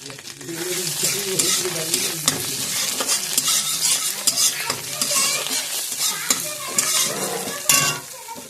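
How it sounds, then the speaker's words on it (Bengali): Cardamom and cinnamon sizzle loudly in hot oil as they are stirred, with dense crackling and spatula scrapes close up for a Bengali coconut prawn curry. "দেখুন ওই তেলের এলাচ আর একটু দারচিনি দিয়ে দিচ্ছি।"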